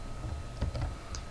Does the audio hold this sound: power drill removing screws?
no